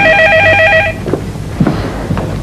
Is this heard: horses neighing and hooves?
no